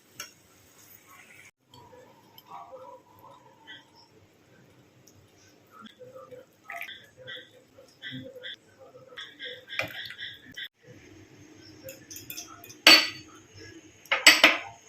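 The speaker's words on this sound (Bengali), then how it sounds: "আমি একটু একটু ময়দা দিচ্ছি আর গুলিয়ে নিচ্ছি" A spoon stirs flour into chicken soup in a pot. Sparse metallic clinks and scrapes start quietly, then grow busier and louder, with sharper knocks against the pot near the end.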